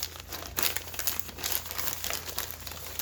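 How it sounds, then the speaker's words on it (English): Knife slicing open a plastic bag of milk chocolate chips in a home kitchen, a quick series of close crinkling and tearing rustles with no talking. "So I'm going to grab a knife and just cut the first bag open."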